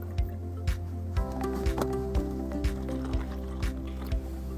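Tap water poured over a green tea bag, a soft wet trickle with a run of small squishy drips and splashes at a steady pace, close and fairly quiet with a low hum underneath.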